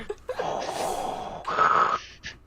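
A voice imitates Darth Vader's mechanical breathing at a script read-through, giving two long, hoarse, rasping breaths close to the mic, the second louder and harsher, with a short gasp at the end.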